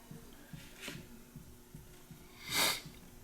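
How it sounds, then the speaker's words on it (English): Repeated short nasal sniffs at a slow, uneven rhythm, then a louder, longer snort-like sniff near the end, close and fairly quiet. "Still fighting a cold, sniffing away."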